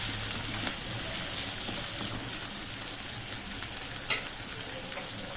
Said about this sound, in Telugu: ఈ విధంగా వేసుకున్న తర్వాత మొత్తాన్ని కూడా వేయించండి